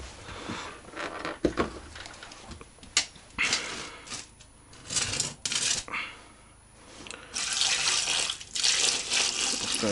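Cold tap water runs over freshly cooked potatoes and eggs, giving an uneven, splashing gush with clinks and knocks, louder steady flow near the end.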